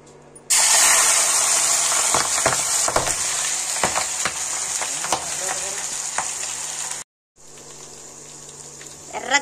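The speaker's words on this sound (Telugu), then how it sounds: "చూడండి, రెండోసారి కాల్చుకుందాం చికెన్." Chicken pakoda pieces frying a second time in hot oil, a loud, dense sizzle that starts abruptly and carries on with crackling pops and stirring clinks, cutting out briefly before the frying resumes.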